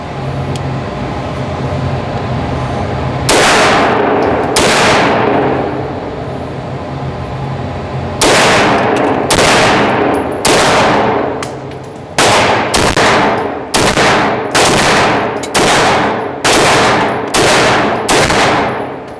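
Polymer80 pistol test fired outdoors, a series of loud, sharp gunshots: two early shots, then a quickening run of about ten reports spaced roughly a second apart, over a steady low background hum.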